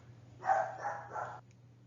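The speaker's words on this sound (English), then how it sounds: "I apologize if you heard the dogs barking." A few dogs bark in a short burst of three quick, moderately close woofs over a low steady hum, heard during a volunteer training session at Grace House in Akron.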